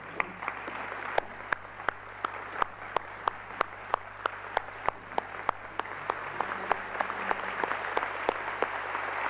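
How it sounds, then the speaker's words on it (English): Audience applause at a peace convention in Paraguay honouring former Latin American presidents: steady, sustained clapping from a large hall crowd with sharp individual claps standing out, continuing evenly throughout. "Could they stand up and get a warm round of applause from the audience today?"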